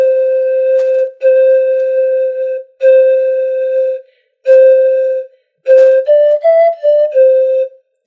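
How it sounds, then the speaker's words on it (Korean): A Romanian pan flute, breathy and soft, plays a slow melody of sustained notes, then a quicker run of short rising and falling notes, played alone and up close. "그리고 루마니아식 악기는 좀 더 부드러운 소리"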